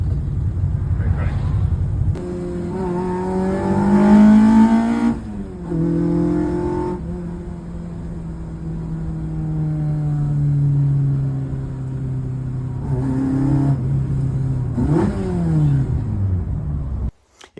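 Sports cars, a Lamborghini Diablo chased by a turbo Porsche and a Lancia Delta, accelerate on a road rally, with a loud close engine drone rising and falling in pitch through several gear changes.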